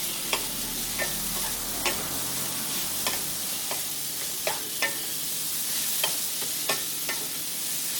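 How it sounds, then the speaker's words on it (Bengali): Chirer polau, flattened rice, stirred in a hot pan, with a steady close sizzle and regular sharp clicks of the spoon against the pan roughly every half second to second. "নেড়ে দিচ্ছি আঁচটাকে একটু জোর দিলাম"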